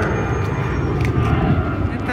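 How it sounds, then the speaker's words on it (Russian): A low-flying airplane passes over the Lara district of Antalya near the airport, a loud, steady, deep engine roar filling the whole stretch. "А тут с аэропорта самолеты летят бесконечно."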